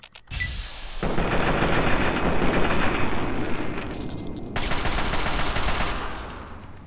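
Machine gun fire in Fallout 3: one loud, continuous stream of rapid automatic shots that runs almost the whole time with no pauses, alone with no talking.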